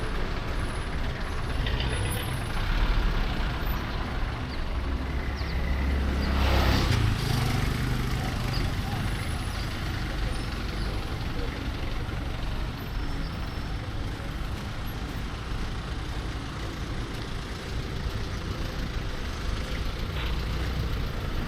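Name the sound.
heavy street traffic in Nairobi, Kenya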